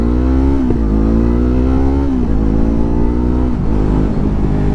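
A 2020 Yamaha R3 motorcycle with an Akrapovic exhaust revs loud and close. The engine pitch climbs steadily, then drops briefly at quick shifts before rising again, with no talk over it.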